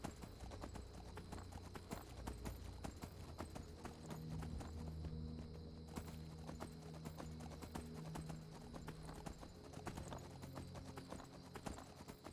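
Horse hooves clip-clop steadily in Skyrim, a continuous rhythmic trot heard close and fairly quiet over a low game ambience, with a faint tonal hum in the middle stretch.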